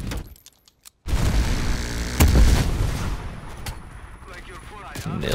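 A barrel explodes in Call of Duty Black Ops Cold War with a heavy blast after a quiet lead-in, followed by a second loud burst and continuing gunfire and game noise, with talking mixed in.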